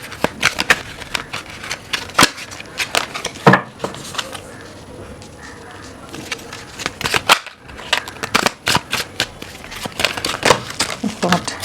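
Tarot cards are shuffled and riffled in quick, uneven bursts of crisp slapping and fluttering snaps with a short pause partway through, heard close up and under intermittent speech.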